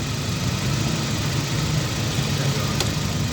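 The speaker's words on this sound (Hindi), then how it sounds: "गाड़ी स्टार्ट करो।" Suzuki Liana car with an overheating problem, its engine running at a steady idle, a constant low rumble with a faint rattle, close by, with no talking.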